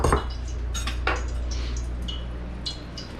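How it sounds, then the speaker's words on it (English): A tamari or soy sauce mixture being whisked in a bowl for vegan kung pao cauliflower, with a few light metallic clinks and scrapes over a steady kitchen hum, close by and without talking. "we just want to give that a good whisk"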